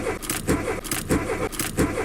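A car engine in a standard video game car race hums steadily with a pulsing, repeating rev cycle, loud and close, with no talking.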